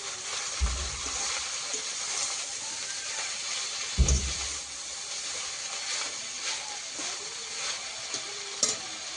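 Mixed leafy greens, including red amaranth and kohlrabi leaves, cooking in a hot pan with a continuous sizzle and hiss, plus a few soft thuds and stirring sounds and no talking.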